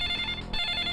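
A telephone rings in one short, electronic trilling burst of under a second, fairly faint, with no talking.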